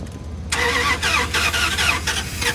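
A Dodge 2500 truck engine cranks briefly on a used battery, then catches and settles into a rough, uneven idle, close and loud, with no talking.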